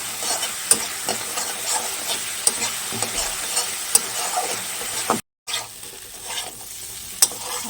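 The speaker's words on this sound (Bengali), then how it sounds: "এবার মশলাটাকে ভালো করে একটুখানি কষিয়ে নিই" Ground spices (cumin, turmeric, chilli and coriander powder) being stir-fried in a pan give a steady close sizzle, punctuated by several sharp spatula clicks against the pan and a brief silent gap, with no talking.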